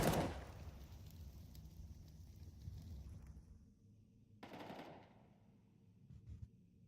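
Rapid bursts of video game gunfire in a Counter-Strike style pro league match, players shooting through walls; a loud volley opens the clip, then quieter intermittent shots and a second burst midway, no talk.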